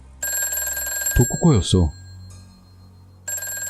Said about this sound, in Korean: 집 전화가 울렸어